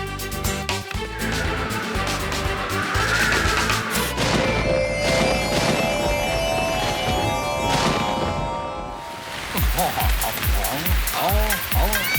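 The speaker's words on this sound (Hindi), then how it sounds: "रेन क्लाउड्स बनेंगे तो बारिश भी होगी" Cartoon rain pours from artificial rain clouds made by a gadget in a 3D comedy animation, a dense, loud hiss of falling drops with splashy hits, later broken into bouncy bubbling effects, and voices can be heard over it.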